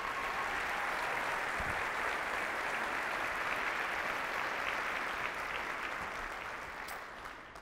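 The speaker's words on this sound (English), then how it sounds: "Let's give our Board of Education a round of applause this morning," Steady audience applause at a school district's state-of-the-district event, a continuous even wash of clapping from a large crowd that fades slightly toward the end.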